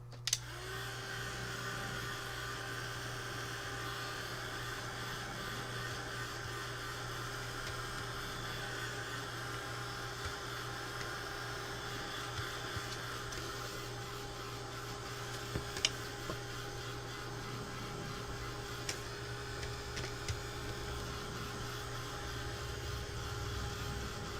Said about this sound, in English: the Heated Craft tool by Ranger, because it doesn't blow as hard. It's got the same amount of heat, but it's blowing it less rough